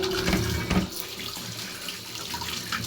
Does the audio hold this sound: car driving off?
no